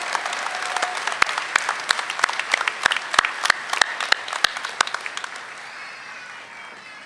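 Applause for associate degree graduates at a CSU commencement ceremony: a broad hall full of clapping with several sharp, close individual claps standing out, gradually tapering away.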